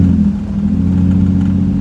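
A lowered Infiniti G35 rolls along a bumpy back road, its engine and tire rumble forming a loud, steady low drone that continues throughout without any speech.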